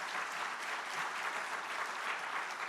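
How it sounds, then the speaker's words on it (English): A dense, even round of audience applause at an airport program event, heard alone and fairly faint as a continuous wash of many hands clapping. "Please give Atif and his team a huge, huge round of applause."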